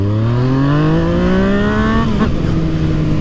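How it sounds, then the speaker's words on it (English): A Yamaha MT-09 motorcycle with an Akrapovic exhaust revs hard on the street, its engine note climbing steadily for about two seconds before dropping off sharply, loud and close. "that MT-09 with that Akrapovic exhaust,"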